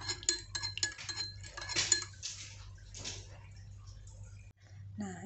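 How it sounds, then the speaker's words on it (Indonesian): A spoon stirs honey into a homemade herbal drink for a child's cough and cold, giving a run of close, bright metallic clinks and scrapes against the glass, loudest early and thinning out, with a voice briefly underneath. "Diaduk."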